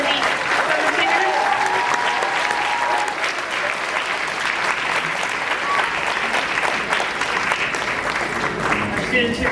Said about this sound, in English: We have another round of applause for Cintano and the drum singers.